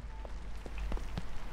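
Rain beats against a window in the video game Holstin, a steady dense patter with scattered louder drops over a constant low background hum.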